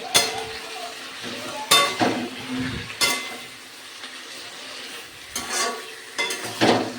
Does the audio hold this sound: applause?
no